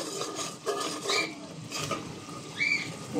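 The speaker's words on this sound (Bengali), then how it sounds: "তখন ঝোলটার সাথে একটু চামচ দিয়ে নেড়ে দিতে হবে।" A spoon stirring biryani masala through fish curry in a pot, a few soft scraping, clinking strokes with brief metallic squeaks, close and quiet with no talking.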